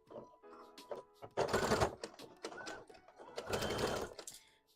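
A home sewing machine stitches a Pokemon hat in short bursts, its fast mechanical chatter starting and stopping with brief pauses and clicks, close but moderately quiet.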